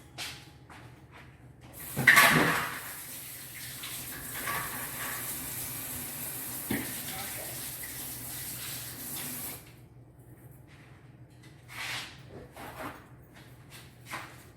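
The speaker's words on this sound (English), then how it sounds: "I gotta wash my hands" Tap water runs into a kitchen sink for several seconds while hands are washed beneath it, a steady broadband gush with a splashy start, stopping abruptly, with a few small clatters before and after.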